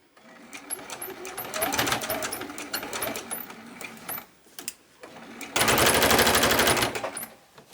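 A sewing machine stitches around a fabric bin made from fat quarters with rapid, rattling needle bursts, a short stop-start back stitch and then a louder continuous run, close by with a voice speaking at times.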